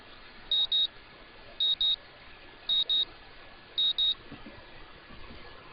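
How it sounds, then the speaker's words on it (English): A morning alarm clock in a visual novel game beeps in four evenly spaced double bursts, bright and clear over a quiet background. "The morning alarm sounds and I roll over, switching it off."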